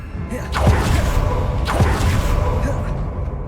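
Glacius ice spells cast in Hogwarts Legacy give two sharp whooshing blasts, each landing with a heavy thud, over a steady rumbling game backdrop.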